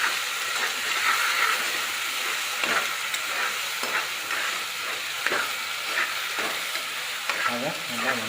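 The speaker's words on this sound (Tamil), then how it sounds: "இஞ்சி பூண்டு பேஸ்ட்டு அந்த பச்சை வாசம் போகிற மாதிரி" Ginger garlic paste sautéing in a pot for homemade biryani, an even close sizzle broken by irregular stirring scrapes, with a brief tonal sound near the end.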